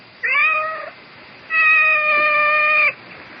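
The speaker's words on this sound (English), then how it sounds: "I seem to have this cat." A cat meows twice in an old-time radio mystery drama, a short rising meow followed by a longer drawn-out one, close and clear.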